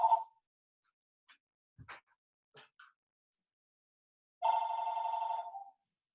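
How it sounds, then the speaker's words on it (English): A telephone rings once with a steady trilling tone lasting about a second, preceded by a few faint scattered clicks and quiet, heard at moderate distance in an otherwise silent room. "that's a phone"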